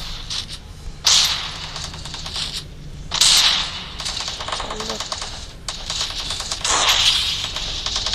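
Rapid bursts of gunfire from a mobile shooter video game, with several loud sharp volleys spread through the stretch, backed by a steady busy game soundscape.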